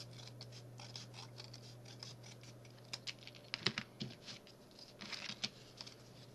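Scissors snip through a small folded piece of paper while a matchbox needle bed is being crafted, with a run of crisp close cuts and rustles, some louder clicks, and quiet room hum beneath.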